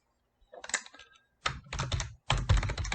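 Quick bursts of keystrokes on a computer keyboard, three separate clusters of clattering taps with short pauses between, close and fairly quiet in an otherwise silent room.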